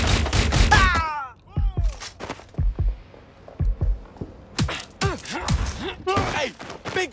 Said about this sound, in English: I'll shoot you, I will.